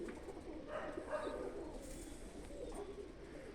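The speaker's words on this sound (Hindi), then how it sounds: "बाजरी मादी है जिसे बाजरे कबूतर कहते हैं।" A Bajri female pigeon coos at night in a loft, soft rolling coos swelling near the middle and fading back into quiet room noise.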